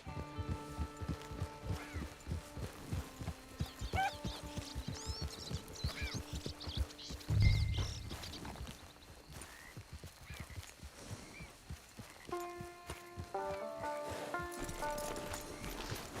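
Horse hooves clip-clop at a steady walking pace, with a brief snort or whinny and soft background music and ambience, in the video game Red Dead Redemption 2.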